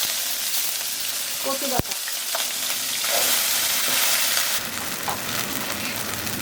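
Shrimp frying in mustard oil in a wok with dried chili and black cumin, a steady loud sizzle running throughout with a sharp clatter near two seconds; a voice speaks briefly over the frying.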